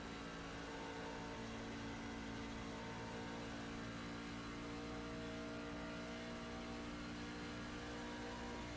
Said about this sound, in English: We got another truck coming up behind me.